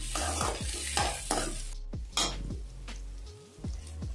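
Ginger, garlic and shallots sautéing in a pan, with a soft background sizzle and repeated scraping strokes of a spoon against the metal in an irregular rhythm, close up with no voices.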